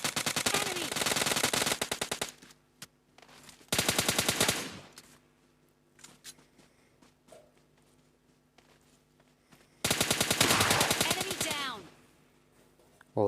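Gunfire in the mobile battle-royale game PUBG Lite, with loud sustained automatic bursts in three long volleys separated by quieter stretches of footsteps and light clicks.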